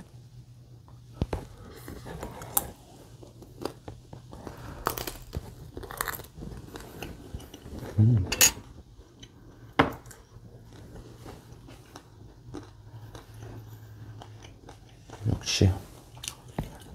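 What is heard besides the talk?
biting and chewing crispy pizza bread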